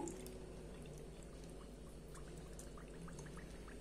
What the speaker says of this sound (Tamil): இப்போ இதில் நம்ம ஏற்கனவே கரைச்சி வச்சுருக்க அந்த வெள்ளை தண்ணியை சேர்த்துடலாம்.